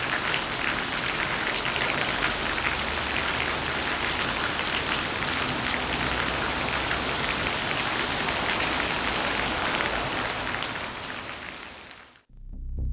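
Steady rain pours down in a dense, even hiss of drops pattering on surfaces, continuous and fairly loud for about twelve seconds before cutting off abruptly.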